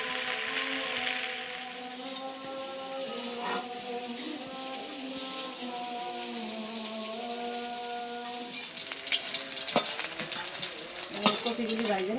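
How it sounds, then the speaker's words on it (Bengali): Cauliflower pieces fry in a pan with only salt, giving a continuous close crackling sizzle for several seconds, then brighter scraping and stirring clatter toward the end, no voices. "দিলাম একটু ভালো করে ভাজছি"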